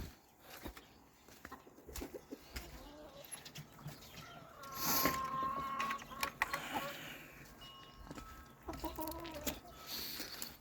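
Chickens and roosters cluck softly at a distance amid faint outdoor noise at a chicken coop, with a sharp higher call standing out midway.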